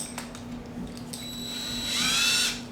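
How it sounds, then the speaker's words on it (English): A DeWalt drill spins a cylinder hone in first gear on a junkyard 302 engine build, giving a brief high whine that rises and swells near the end after a few short clicks, close by with no talking. "I've got our DeWalt here."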